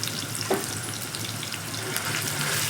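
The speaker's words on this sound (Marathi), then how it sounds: "तो मसाला मी आता तेलात टाकते" Masala paste frying in hot oil over a low flame while cooking a Maharashtrian red mutton curry, a close, steady sizzle with a soft stir clatter near the start, no voices.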